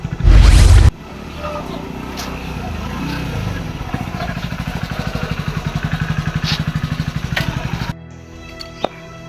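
A motorcycle engine runs close by with a rapid, pulsing putter after a loud bump at the start, then cuts to quiet at the end.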